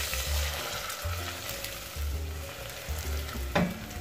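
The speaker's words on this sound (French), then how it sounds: "là en ce moment je vais mettre le beurre" Butter melts into hot golden caramel with a steady close sizzle and bubbling, broken by brief scraping stirs and a faint clink near the end.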